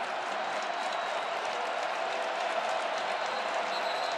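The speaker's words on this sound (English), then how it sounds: "a very pro-Bronco crowd rises in voice here at Ford Field" Football stadium crowd at Ford Field, largely pro-Bronco, roaring and cheering in a sustained wash of noise during a championship game, distant and steady throughout.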